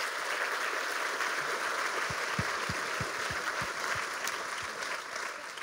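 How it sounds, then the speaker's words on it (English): Audience applause for a panel of general practitioners at a cannabis and youth health talk, a steady, even wash of many hands clapping throughout, with faint low thumps underneath. "let's give them all a round of applause"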